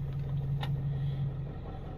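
Ford F350 pickup, an older OBS model, driving and shifting through its gears, with a steady low engine drone and road rumble throughout and a brief clunk near the middle.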